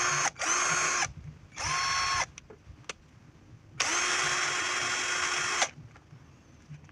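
HiLDA cordless battery drill with a 4-cell battery running at speed 1 in three separate bursts, each a steady high-pitched whirring buzz that starts and stops abruptly, with quiet gaps and small clicks in between.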